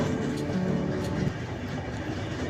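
The Danapur–Jaynagar Intercity Express runs on rails near Bharpura Pahleja Ghat Junction in Bihar, a loud, steady rumble and roar of wheels and carriages heard from on board, continuous throughout with no talking.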